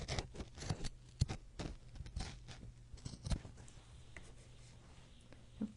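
Scissors snip through lace while a gift book is being crafted: a series of crisp, close cuts at an uneven rhythm, with soft paper-handling rustles between them and no talking.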